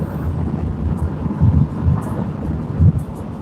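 Thunder from an approaching thunderstorm heard while driving on a Pennsylvania road trip, low rumbling swells rolling through a steady rushing background of road and wind noise, with no talk.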